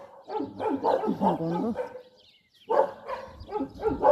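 A dog barks in short bursts on a hillside farm where goats and chickens are raised, close and fairly faint, with a pause between bursts and a person talking nearby.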